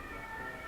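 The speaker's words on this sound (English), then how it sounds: "Sorry about the police siren outside of my window." A police siren wails steadily outside a window, a faint continuous tone heard from a distance with no other sound.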